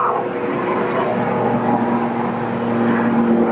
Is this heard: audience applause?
no